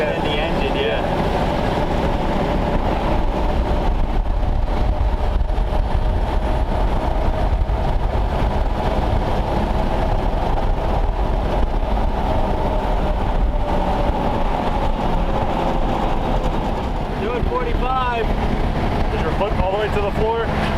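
Tire roar and a low engine drone from a 1932 Ford Roadster on the road make a steady rumbling hum under talk from people riding along, constant throughout.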